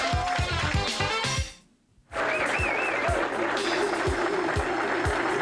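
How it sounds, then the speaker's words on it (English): A crowd at a women's professional bowling tournament in Athens, Georgia, applauds and cheers steadily, with a brief near-silent break before the clapping resumes over distant commentary. "Listen to the crowd."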